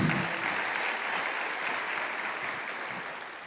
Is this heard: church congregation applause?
yes